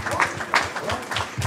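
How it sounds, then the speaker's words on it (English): The crowd at a city Mayor's Night Out applauds department heads, a brief burst of uneven clapping mixed with crowd noise. "give them a big round of applause, please"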